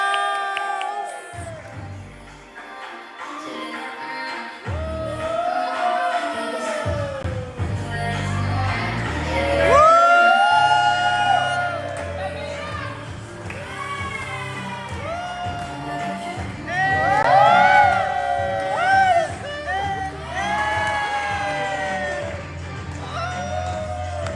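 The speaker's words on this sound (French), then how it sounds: "Merci d'applaudir Anna de la Queenas." A crowd at a drag show cheers and whoops over loud music, with shouts and excited voices rising in waves above the thumping beat; clapping is not clearly distinct under the noise.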